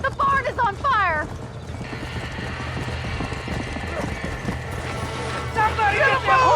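Horses in a burning barn in the video game Red Dead Redemption, with loud whinnying and neighing at the start and end over busy hoof clatter and crackling background noise.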